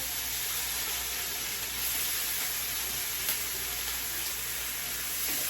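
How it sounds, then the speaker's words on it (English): Steady, soft sizzling hiss of homemade hash browns frying in a pan, continuous and even throughout with no talking. "Hear that sizzle."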